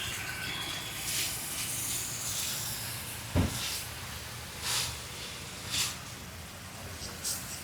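Egg bheja fry sizzles on a tava in peanut oil right after a splash of water, a steady hiss with a few sharper bursts and a brief thump, no voices.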